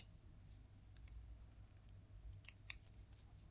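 Scissors snip thread loops on a wefted hair prosthesis, a quiet room with two small, sharp cuts close together near the end.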